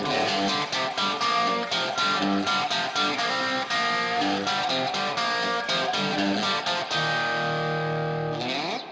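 Loud, saturated electric guitar through a Cesar Diaz fuzz pedal with a fuzzy, distorted tone, playing a quick riff of repeated notes and ending on a sustained bent chord.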